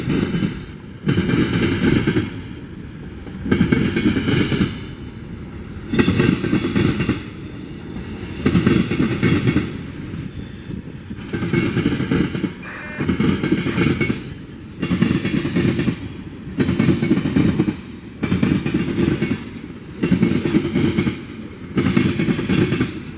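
BNSF freight train crossing a railroad diamond at Sandpoint, Idaho, each wheelset striking the crossing in loud paired bangs that repeat in a regular rhythm, close and with no talk.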